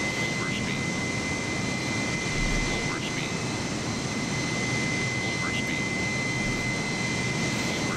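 An airplane engine drones steadily in Microsoft Flight Simulator, a constant hum with a thin high whine held throughout, while people talk faintly over it.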